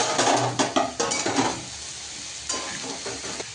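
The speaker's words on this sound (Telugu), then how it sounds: "క్యారెట్, పొటాటోస్ అన్నీ వేసుకొని చక్కగా కలుపుకోవాలి." Chopped carrots, potatoes and capsicum stirred in a pan with a utensil, a run of close scraping strokes that pause, then lighter stirring with a soft sizzle underneath.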